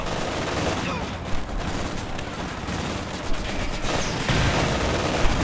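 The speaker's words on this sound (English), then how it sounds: "Under infantry fire!" Sustained infantry gunfire from a Company of Heroes 2 battle, a dense crackle of rifle and machine-gun bursts with occasional sharper reports, steady and loud throughout with battlefield clutter beneath.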